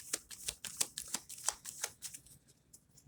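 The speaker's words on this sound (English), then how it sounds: "I want to pull a couple more cards here." Tarot cards being shuffled, a quick run of crisp riffling snaps and flicks repeating about three times a second, close and fairly quiet, with no talk.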